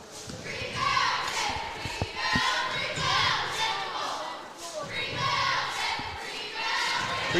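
A college women's basketball crowd jeers and shouts in protest at a foul call, loud waves of massed voices rising and falling, with a few thumps and a commentator talking over it.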